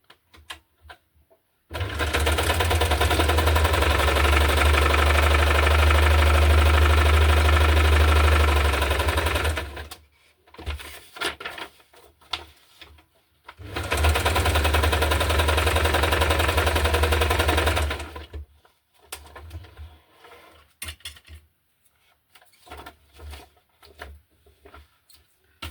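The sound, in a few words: sewing machine sewing a straight stitch on a junk journal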